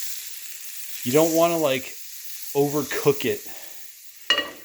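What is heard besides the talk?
butter sizzling in a stainless steel pan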